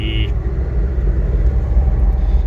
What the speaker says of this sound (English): this here with all these cars going past, this is actually crazy busy for us